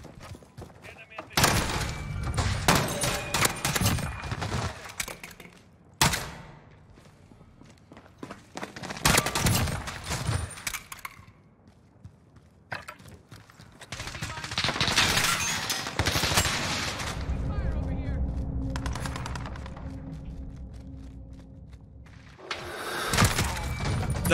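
Gunfire in Call of Duty Modern Warfare, Desert Eagle in use, with repeated loud shots and bursts scattered through a busy match alongside thuds, footsteps and shattering noise, and a player talking at intervals.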